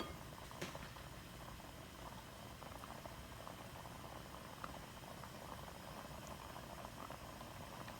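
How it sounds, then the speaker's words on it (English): Sweet cardamom rice water bubbles at a full boil in a pot, a faint, steady low churning that runs unbroken throughout. "And see here that it has come to a good boil."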